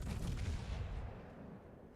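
Secondary guns of a British battleship in World of Warships fire in a dense rumbling volley, loud at first and then fading into a lingering low roar, with no talk over it.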